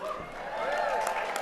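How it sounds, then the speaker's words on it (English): Broad, steady applause from a large audience at a community awards night, a dense wash of clapping that stays loud and even for the whole moment with a faint murmur of crowd underneath. "that's an applause line"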